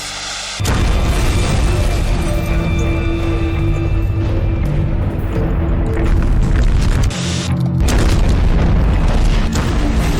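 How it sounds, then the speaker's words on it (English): Ruptured tanks explode and tear apart an industrial plant building, a loud sustained roaring blast that rumbles on for seconds with a brief dip and a renewed surge. "The heat and pressure caused the tanks to rupture, and the building is ripped apart by the explosion."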